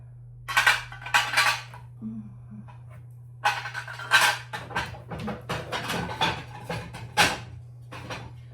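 Gold-rimmed dishes and cutlery clatter and clink as they are put away and stacked, a series of sharp bursts close by, with no talking.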